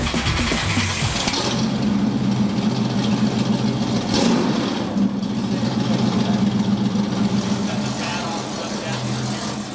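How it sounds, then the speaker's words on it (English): An old classic car engine runs loud and close for the whole stretch, a steady throaty idle with a rough, pulsing low end and a brief swell partway through. "this will probably be the last firing of this old engine"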